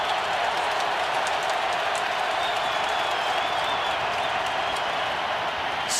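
Indianapolis Colts home crowd roars on third and five during an NFL wildcard playoff game against the Chiefs, a constant, loud stadium din with no break across the moment.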